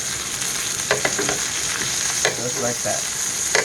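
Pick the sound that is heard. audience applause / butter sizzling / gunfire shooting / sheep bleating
butter sizzling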